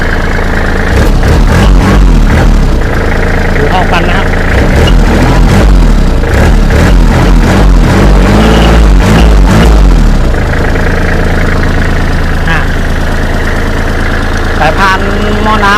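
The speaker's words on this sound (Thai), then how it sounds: "ผมเปิด เปิดเครื่องให้ดู" A used Kubota L3408DT tractor's diesel engine runs at a loud, steady idle throughout, with a brief revving burst in the middle, and someone speaks over it.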